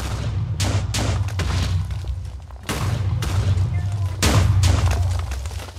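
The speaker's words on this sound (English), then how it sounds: "I can hear the explosion." Repeated booming TNT blasts in a Minecraft hide-and-seek game, several loud bursts with heavy low rumble spread across the stretch, the last ones strongest.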